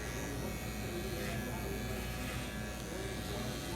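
Gamma Stylecraft hair clipper motor cutting through hair and labouring under the drag, a steady close buzz that holds loud and even throughout with no pause.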